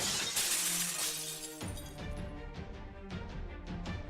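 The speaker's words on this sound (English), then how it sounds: "why is it raining glass?" Glass shattering with a loud crash in a video game, followed by a steady patter of shards raining down and tinkling for several seconds amid game effects.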